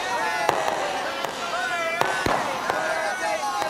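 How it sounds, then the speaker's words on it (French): Fireworks go off at a cartoon football match in a rapid series of sharp pops and crackles, with whistling, sparkling trails between bursts and voices mixed underneath. "les feux d'artifice partent pour une des deux équipes"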